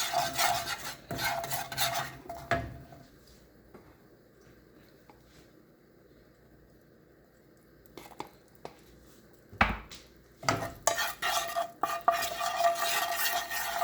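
Egg chaat mixture stirred with ghee or butter, a gritty scraping that comes in close, loud bursts at the start and end with a quieter stretch of faint scrapes in between.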